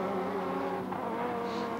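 Touring cars at a 1990 AMSCAR Series race, including a Nissan, roar past cresting a rise, a loud continuous engine drone with steady harmonic whine filling the short burst.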